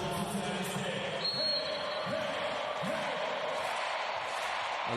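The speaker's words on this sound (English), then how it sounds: "The crowd love it here in Antalya." Crowd at a women's club volleyball world championship final in Antalya, a dense continuous roar of cheering filling the arena with ball thumps beneath, a commentator speaking over it.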